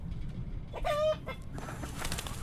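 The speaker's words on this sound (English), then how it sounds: "Grab our other silly hen." A hen in the Book of Hours video game gives a single short, clear cluck against a quiet background hum.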